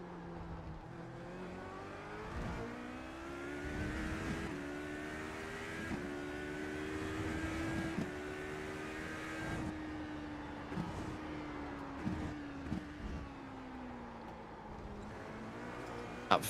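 Corvette and Aston Martin GT race car engines roar in an iRacing sim race at Portimão, a steady rising and falling engine drone with repeated gear shifts and throttle lifts, no talking.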